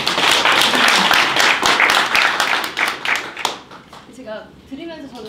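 Audience applause at an evening meetup of delivery and restaurant business owners, loud dense clapping for about three and a half seconds before fading into scattered claps.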